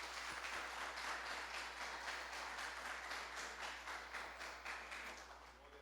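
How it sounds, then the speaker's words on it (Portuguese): A church congregation applauding during a sermon, a steady wash of many hands clapping at moderate volume that slowly tapers toward the end. "Aplauda o Senhor em nome de Jesus."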